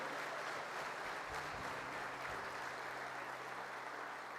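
Church congregation applauding in a steady, even wash of clapping, faint and alone, with no talk over it.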